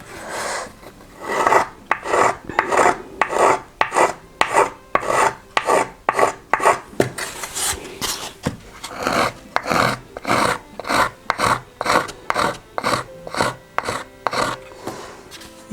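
Rasp filing wood off a handmade violin body, a steady run of about two dozen rough, scraping strokes in a quick even rhythm, close and fairly loud with no talking.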